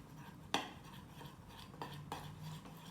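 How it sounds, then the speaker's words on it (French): A spoon scrapes and knocks against a bowl while Ramadan pide bread dough is mixed, with a sharp clink near the start and a few softer taps later, faint and close, with no talk. "Maintenant, on mélange. Biraz hızlı karıştır."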